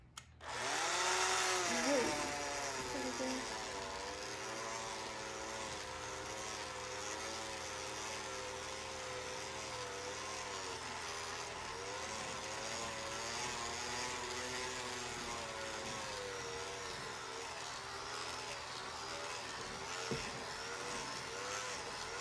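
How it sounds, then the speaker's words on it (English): A small electric hand mixer runs on low through chocolate banana muffin batter, a steady droning whir with wavering pitch as the beaters move, continuous and fairly quiet, with no speech. "I have my little mixer, and I'll run it on low."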